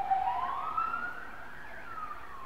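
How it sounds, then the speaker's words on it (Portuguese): An ambulance siren wails outside as it passes, a rising and falling tone heard at a moderate distance over faint background noise. "Tá passando uma ambulância aqui."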